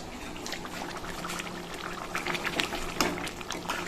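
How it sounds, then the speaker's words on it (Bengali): Hot water is poured into a pot of cooking chicken, a close, continuous splashing pour with bubbling and sizzling that swells and gurgles toward the end. "এখন এই গরম জলটা দিয়ে দেবো"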